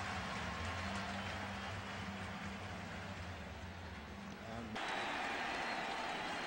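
A baseball stadium crowd roars on its feet, a dense sustained wall of cheering with a faint announcer's voice beneath, swelling brighter near the end.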